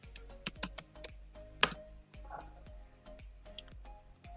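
Someone types on a computer keyboard, producing quiet, irregular key clicks in short bursts with one sharper tap partway through.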